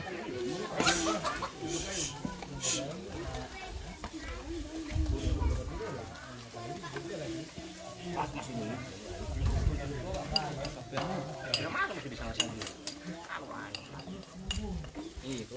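Saksang stirred in a pan with a wooden spatula: scraping, clinking stirs over a steady sizzle that swells and fades in rhythmic strokes, close and moderately loud, with voices talking at times.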